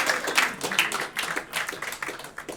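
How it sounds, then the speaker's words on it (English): An audience at a tech conference, NG-BE 2019, claps to welcome a sponsor's speaker. Scattered, uneven hand claps, moderately loud and close, with a quieter voice briefly mixed in. "You guys guys. are supposed to clap for Simon."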